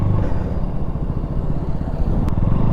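A KTM RC200 motorcycle with a weak battery rides off from a petrol pump, its engine a steady, close, rumbling drone with a faint clatter throughout.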